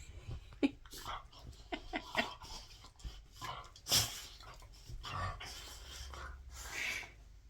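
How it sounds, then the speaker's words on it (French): A dog whimpers and whines in short, uneven bursts close by, with a few sharper yelps and snuffling breaths, while a person speaks softly at times. "Malheureux ce chien."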